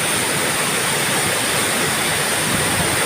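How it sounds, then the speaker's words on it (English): A rushing mountain river roars as a loud, steady broadband wash with no breaks, close by and with no voices over it. "So that's the river."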